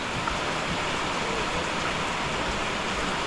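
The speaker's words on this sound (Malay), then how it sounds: "Hujan masih lagi turun." Steady rain pours down around a floating chalet at a fishing port, a dense, even hiss that stays constant and fairly close throughout with no voices.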